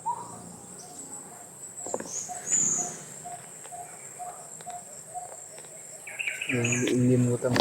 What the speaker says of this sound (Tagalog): Mga aso, mga ibon Brad.